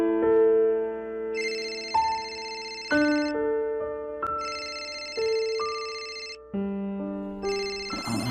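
A phone rings loudly with an incoming call late at night, its melodic tone repeating in steady, bright phrases for several seconds with no voices over it.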